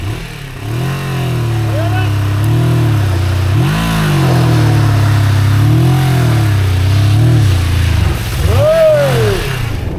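A Yamaha MT-07 motorcycle on an off-road track in Peru revs close and loud, its engine note swelling and falling several times in uneven throttle bursts, with people talking over it.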